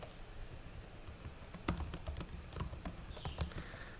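Keys on a computer keyboard clack quietly and unevenly while Python functions are typed, soft irregular taps with no talk.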